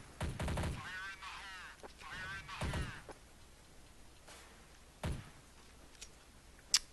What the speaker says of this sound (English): Solid cross firing.